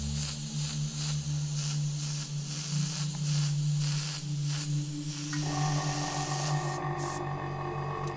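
Airbrush spraying paint onto cardboard, a steady airy hiss that runs continuously under a low hum, with a brief shift in tone midway.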